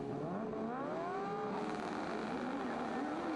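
Superbikes roar away together at the start of a Cookstown 100 road race, a dense layered engine howl with pitches climbing as they accelerate, steady and loud without breaks.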